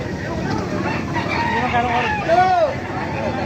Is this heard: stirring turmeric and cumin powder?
no